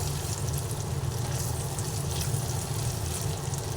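Kashmiri chili powder and spices frying in hot oil in a pan while being stirred, a steady close sizzle with a low hum underneath, for a spicy foli fish and brinjal curry.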